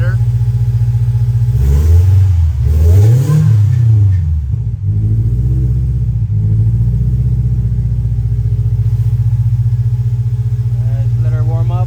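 Supercharged Scion FRS engine idling loud and close right after starting, a steady low rumble with a couple of brief revs early on before settling; a voice speaks over it.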